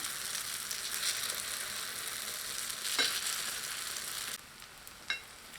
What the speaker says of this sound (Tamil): பனியாரக்கல் காஞ்ச உடனே மீடியம் ஃப்ளேம் வச்சு சுட்டு எடுத்துக்கணும்